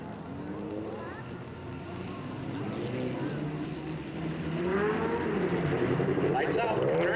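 Race cars at Delta Speedway in 1997 roar around the track, engines rising and whining louder as they approach, with an announcer talking over the noise.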